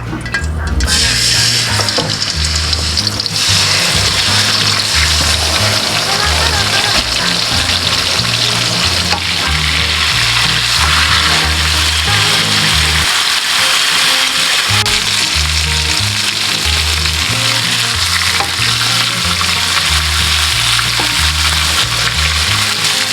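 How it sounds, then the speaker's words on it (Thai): Loud, steady sizzling of marinated chicken searing in a hot frying pan, continuing unbroken, with a rhythmic low thumping beat underneath. "เอาไก่ที่เราหมักไว้เอามาจี่ในกระทะ"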